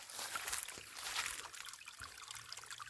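Water trickling weakly from a hose during a hot, dry spell, a faint, steady, thin splashing dribble close by with no talking over it.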